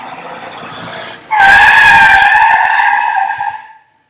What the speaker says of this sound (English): Wow, that's a really loud car.